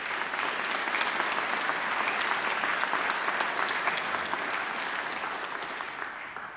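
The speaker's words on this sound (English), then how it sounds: "I think a round of applause there" A business school graduation audience claps for a team, with a continuous, dense roar of many hands applauding, steady and even from start to finish.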